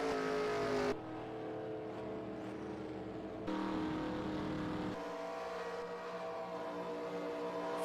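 Stock cars race at Daytona in the eNASCAR Heat game during the Daytona 500, engines droning loudly and continuously with shifts in pitch as the view changes, no talk over them.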